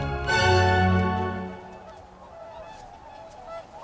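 Whooper swans and other waterfowl calling on a glacial lake in Mongolia's mountain wilderness, a loud nearby honking burst that fades into softer, more distant calls over open ambience.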